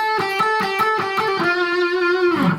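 An electric guitar with distortion plays the outro phrase of a guitar solo. A quick run of picked notes comes first, then a note is held and bends downward as it ends.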